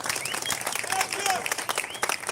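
A crowd inside a building applauds and cheers for the head of state, with steady clapping, shouts and a few whistles filling the whole moment, voices mixed in throughout.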